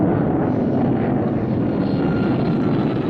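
A small aircraft's propeller engine drones steadily and loudly as the plane circles looking for a place to land, with an even, unbroken hum and no speech.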